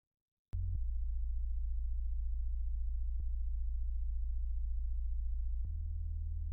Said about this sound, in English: So for the sub bass, it sounds like this without effect.